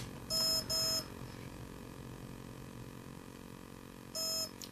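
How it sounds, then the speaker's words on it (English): TowerPro MAG 8 18A brushless ESC emitting programming beeps: two short, clear electronic tones in quick succession, then a single matching beep a few seconds later, over a faint steady background hum. "one beep is lipoline or lipopoly, two beep is NMIH or NICD"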